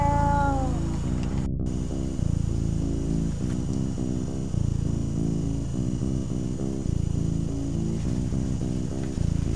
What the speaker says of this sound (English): I keep hearing it sounds like a cat, man, like in the story